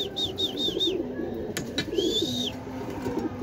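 Racing pigeon at a loft during a long-distance derby race, with soft cooing and repeated chirping calls close by over a steady background murmur.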